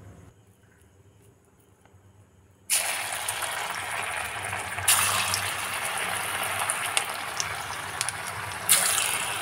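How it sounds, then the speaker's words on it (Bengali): Pakoras, made from leftover seeds, drop into hot oil and set off a sudden loud, steady sizzle that continues with crackles and a couple of louder surges, after a quiet moment beforehand. "এবার আমি পকোড়াগুলো ভাজতে শুরু করব।"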